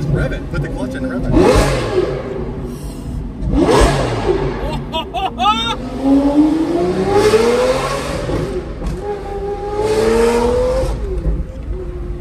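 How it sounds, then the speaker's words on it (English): A V12 supercar engine is revved with the clutch in, giving about four separate rising revs that snarl up and fall back, loud and close, with idle rumble between the bursts. "Put the clutch in and rev it."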